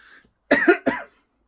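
Two rough, forceful coughs in quick succession, close and loud, following a moment of faint background.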